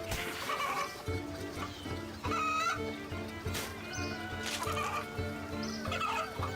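Chickens cluck repeatedly in the Old School RuneScape video game, a busy run of overlapping squawks and clucks at fairly close range over continuous game background sound.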